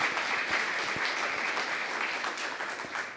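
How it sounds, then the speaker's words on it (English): Audience at a Christian school vision-casting event gives a dense, steady round of applause, moderately loud and continuous for the whole stretch with no talk over it. "that's worth a hand clap"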